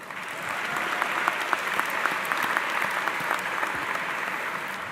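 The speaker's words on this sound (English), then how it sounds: "so give yourself a round of applause" Steady, dense applause from a high school graduation audience at a Class of 2026 ceremony, continuous clapping filling the room throughout without any voices on top.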